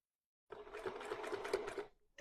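A sewing machine stitches fabric down to a pin in one steady burst of rapid, even needle strokes lasting about a second and a half, close and fairly quiet, followed by a brief restart.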